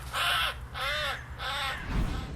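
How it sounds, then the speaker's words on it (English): A crow gives three loud, harsh caws in steady succession, each about half a second long, clear and close with no talk. "Crow."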